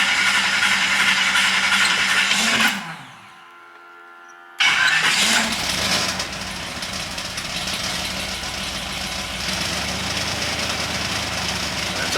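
A car engine cranked over to build oil pressure with the oil filter pre-filled: a loud, steady mechanical whirring that cuts off for about two seconds and then resumes, running on evenly.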